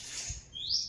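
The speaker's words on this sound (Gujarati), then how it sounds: "એ લવ અહીંયા એ બાજુ હોય ચકલા." Sparrows chirping near a farm field, two or three quick high tweets close by, the last one the loudest, with no talk.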